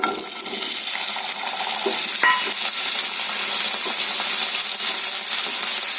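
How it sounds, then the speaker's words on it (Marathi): Chopped raw green tomatoes, four of them, sizzle and crackle in hot oil in a pan for a green tomato chutney, a loud, steady hiss with small pops and the scrape of stirring. "आता आपण या तेलामध्ये जे कच्चे टमॅटो आपण चिरून घेतले होते चार टमॅटो ते मी त्याच्यात घालणार आहे"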